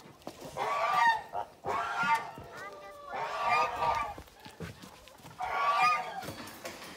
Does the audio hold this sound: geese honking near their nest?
yes